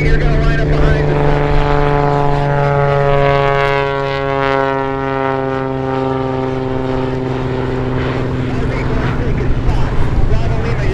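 A propeller airplane takes off during busy departures at EAA AirVenture in Oshkosh, its loud, steady engine drone holding throughout and sliding slightly lower in pitch as it pulls away.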